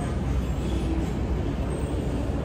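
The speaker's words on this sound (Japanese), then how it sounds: "今電車で移動しました" A train ride in Thailand, with a steady rumbling roar of the carriage in motion, wheels and body noise filling the cabin evenly and continuously, close and moderately loud.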